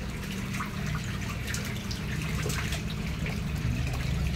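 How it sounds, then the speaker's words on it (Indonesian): Water keeps running into a barrel-style catfish pond, a loud, steady rushing splash with bright gurgling texture throughout, close by and uninterrupted. "Ini airnya masih mengalir."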